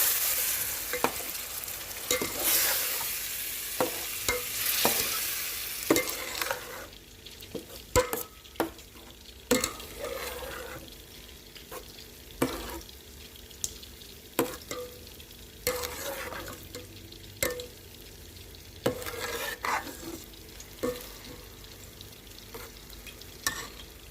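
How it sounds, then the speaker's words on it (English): Five grated tomatoes stirred in a frying pan, a soft steady sizzle with repeated spoon scrapes and taps at irregular intervals, louder at first and quieter later. "we're going to add 5 grated tomatoes. And give this a good mix."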